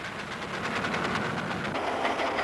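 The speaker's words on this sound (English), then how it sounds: "For some, no doubt, steam engines are the attraction." A steam train engine runs steadily with a continuous rumbling chug and rhythmic clatter, heard fairly close and alone throughout.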